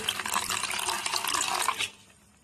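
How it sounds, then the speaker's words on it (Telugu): Beans are washed by hand in water, making a close, steady splashing and sloshing for about two seconds that then stops abruptly. "దీనిలో డస్ట్ ఉంటుంది అందుకే ఒకసారి టూ టైమ్స్ అయితే కడిగి పెట్టుకోవాలి"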